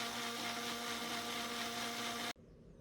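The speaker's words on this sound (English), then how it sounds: "Blend all the seasonings in a cup of water and set aside." Kitchen blender whirring steadily as it blends seasonings in a cup of water, a loud constant motor hum that cuts off abruptly near the end, leaving quiet room noise.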